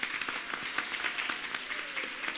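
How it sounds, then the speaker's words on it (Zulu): Applause from an audience at a World AIDS Day government lunchtime talk, a steady, dense patter of many hands clapping at even loudness throughout, with no voices over it. "Ngiyacela simshayele ihlombe."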